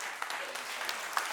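Audience clapping at a Filipino community event, a steady patter of applause that stays fairly quiet and even.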